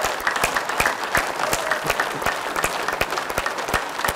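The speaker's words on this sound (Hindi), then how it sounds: "इस तरह से ताली मारने से हमारे एक्यूप्रेशर पॉइंट स्टिमुलेट होते हैं" Group clapping hands loudly with arms spread wide as the first step of a laughter exercise, rhythmic strong claps repeating about every third of a second over a continuous bed of crowd applause.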